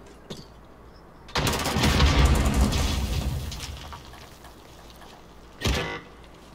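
Gunfire in Call of Duty Modern Warfare, a sustained burst of loud automatic fire lasting a couple of seconds after a single shot, then a short second burst, over quiet game ambience.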